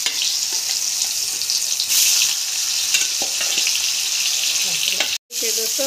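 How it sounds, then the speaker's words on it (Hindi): Banana pieces frying in hot oil, giving a dense, close, continuous sizzle with occasional stirring clatter and a short cut near the end. "अब केले को हम फ्राई कर लेते हैं।"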